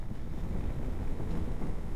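Strong wind gusting across a mountain road in Kinnaur, a steady loud broadband rush buffeting the microphone for the whole stretch with no talk.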